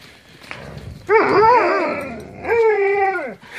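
Alaskan Malamutes in the snow make a drawn-out, warbling howl-like 'talking' vocalisation in two loud rising and falling phrases, close by, with no voices over them.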